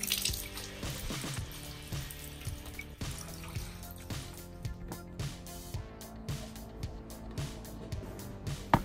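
A small trickle of tap water runs at a sink while something is washed, with steady faint splashing and occasional clatters and knocks over a low background.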